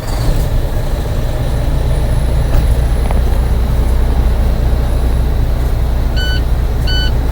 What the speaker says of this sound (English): Gonna mash our clutch in and start her up.